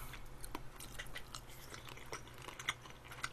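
Crispy pan-fried convenience store gyoza dumplings crunch under close, quiet bites, with a few sharp crackling chews standing out near the end.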